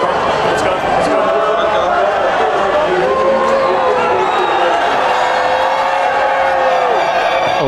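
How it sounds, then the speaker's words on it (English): A large crowd spills onto the track below the podium at the 2007 Australian Grand Prix in Melbourne, a dense, steady roar of cheering and chatter that continues throughout under a commentator's voice. "The crowd are allowed onto the track, they're underneath the drivers."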